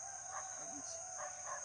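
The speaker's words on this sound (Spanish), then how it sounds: "A ustedes no los despiertan los gallos," A rooster crows at dawn, faint and distant, its calls rising briefly above a steady high hiss of background noise with no one talking.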